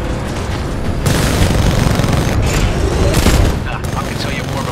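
Weapon fire in the Titanfall 2 video game bursts in a loud, dense barrage of gunshots and booms that holds for several seconds before easing into a rumbling tail.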